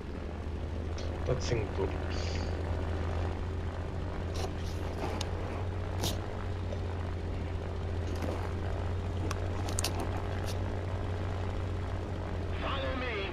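A propeller aircraft engine drones steadily while taxiing on a runway in War Thunder, a continuous low hum with occasional clicks and a brief radio voice over it.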